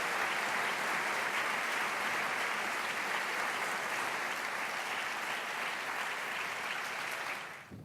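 An audience applauds an award winner, Long-Stanton Manufacturing, at a family business award ceremony, with steady, dense clapping that holds for several seconds and then fades out quickly.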